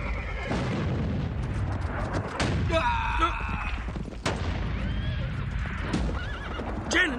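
Horses whinny loudly amid a wartime action scene, shrill neighs cutting through a dense rumble of hooves clip-clopping and booming background noise, close and continuous.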